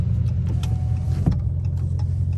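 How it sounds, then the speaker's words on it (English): A catless Dodge Charger SRT drives on a rainy road in manual mode, its engine a steady low rumble heard from inside the cabin with light road and rain noise over it. "I'll get y'all some more with the window up so y'all could hear like what the car sound like in manual"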